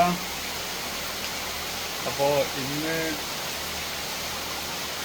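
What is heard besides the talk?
heavy pouring rain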